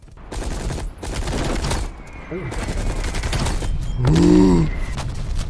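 Rapid machine gun bursts from Call of Duty Black Ops Cold War gameplay, loud dense automatic fire in several stretches, with a man's brief exclamation and a tonal game sound near the end.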